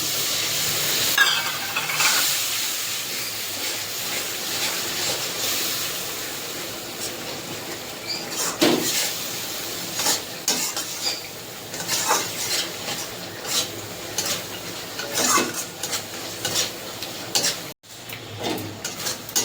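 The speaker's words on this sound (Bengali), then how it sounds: "মশলাটা ভালোভাবে কষিয়ে নেব।" Spice paste of green chilli paste with a little water being stirred and fried in a pan for doi katla, with a steady sizzling hiss broken by repeated scrapes and clinks of a spatula against metal.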